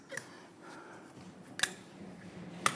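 A plastic valve cover on a 3.6L V6 Jeep Grand Cherokee snaps down into place. The clicks are quiet and sharp, with a faint one early on, then two louder snaps about a second apart, all over a low background hum.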